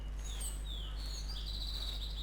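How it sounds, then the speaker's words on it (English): Distant crows calling over a carcass in theHunter Classic, faint thin cries drifting over a steady low hum of outdoor ambience, with no voices. "And as you can hear off in the distance, there is crows at a carcass somewhere."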